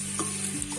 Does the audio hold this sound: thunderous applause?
no